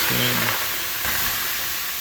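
Water poured on hot sauna rocks sends a steady hiss of steam rushing loudly and continuously inside a mobile sauna, with a brief low murmur near the start.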